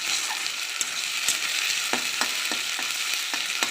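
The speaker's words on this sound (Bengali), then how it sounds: "এবার মশলাটা কষাবো" Spice paste with ground cumin fried and stirred in a pan for a chicken and potato curry, a constant sizzle broken by sharp, repeated scraping knocks of the spoon, close and loud.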